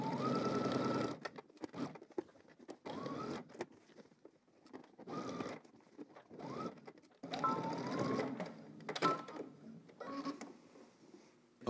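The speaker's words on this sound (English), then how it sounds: "you want to stitch till we get to our marking." A domestic sewing machine stitches fabric at a 5/8-inch seam allowance in bursts, its whirring motor running in several loud runs separated by short pauses, with no talk over it.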